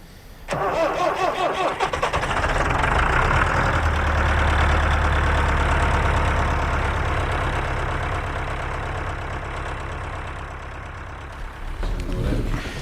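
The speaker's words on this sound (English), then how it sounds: "get your front end loader full of apples and tip them into the area where they're going to be processed" A front end loader's engine turns over and settles into a loud, steady mid-pitched running rumble while tipping a load of apples at a cider farm, fading slightly toward the end with no voices.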